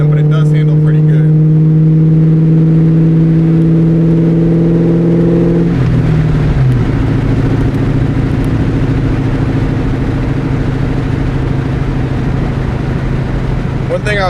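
A 21-year-old 1999–2004 New Edge Ford Mustang GT on summer tires idles with a steady low engine drone, then revs and pulls away, its V8 note rising and settling into a continuous driving rumble.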